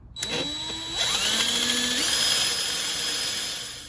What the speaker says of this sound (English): I'll be drilling my new mounting hole